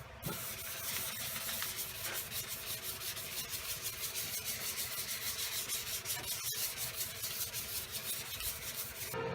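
Hand sanding of a car body panel with a soft sanding block and 400-grit paper: steady, continuous close rasping strokes in a fast rhythm, with no pauses and no talk.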